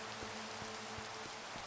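Rain falling in Minecraft survival, a steady soft hiss of rainfall with a few faint low thumps mixed in, quiet and continuous.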